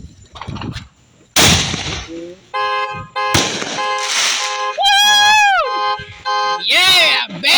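Fireworks go off at close range in loud sharp bursts, with crackling blasts and rising and falling whistling shrieks that overlap one another.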